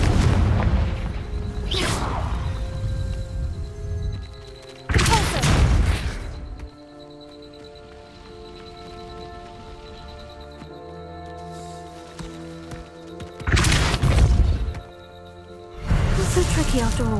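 Confringo fireball blasts in Hogwarts Legacy: several loud, sharp booming bursts with whooshes, spaced apart and separated by quieter stretches of musical tones and ambience.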